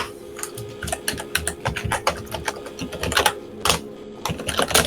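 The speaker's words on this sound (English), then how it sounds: "Sorry about the keyboard noise, guys." Rapid typing on a computer keyboard, close and loud, with dense uneven clacks of keystrokes in quick bursts and brief pauses, no voices.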